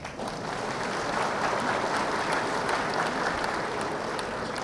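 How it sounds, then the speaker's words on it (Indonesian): Audience applause at a national business chamber conference, even sustained clapping from a large crowd with no talking over it. "Boleh tepuk tangan."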